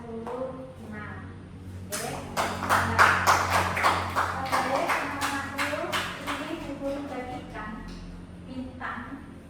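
Pupils in a primary school classroom in Magelang clap for a group, a burst of scattered close handclaps lasting several seconds before fading, with a teacher's voice heard briefly.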